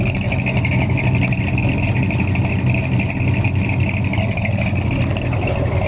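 A 1963.5 Ford Galaxie 500XL with an aftermarket exhaust idles steadily, a loud, close, even burble with no revving.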